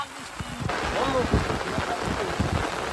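Heavy rain pours steadily on an outing to catch fish, a dense hiss with low thuds mixed in, while voices sound faintly beneath it.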